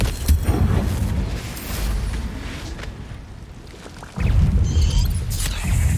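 Confringo spell explosions in the game Hogwarts Legacy, heavy booming blasts with rumbling low end, one near the start and another loud burst about two-thirds through, with no talk.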